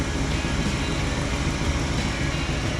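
An old 1971 Dodge parts truck engine idles nearby, giving a loud, steady, dense rumble that stays unchanged throughout with no voices.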